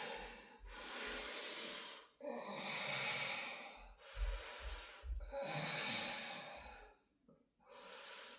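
Slow, deep breaths during a vinyasa yoga forward fold, long airy inhales and exhales heard up close in repeated cycles, some with a nasal snort-like edge, without talking.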